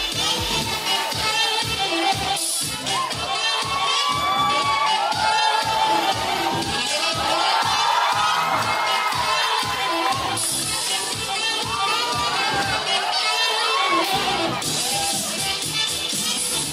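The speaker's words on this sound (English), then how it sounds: "Rehearsals behind us, people clapping, going wild." A school talent show audience in Cebu, Philippines cheers, shouts and claps in a loud, continuous crowd roar with excited children's voices.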